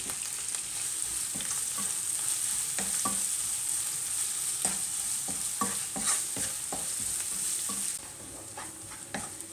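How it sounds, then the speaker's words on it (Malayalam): Onions sautéing in a pan with salt for a simple potato curry, a steady hiss of frying under repeated scraping strokes of a spoon, close and moderately loud, without voices. "നമുക്ക് കുറച്ച് ഉപ്പിട്ട് കൊടുക്കാം, ഇതൊന്ന് നന്നായിട്ട് വഴറ്റി കിട്ടാനായിട്ട്"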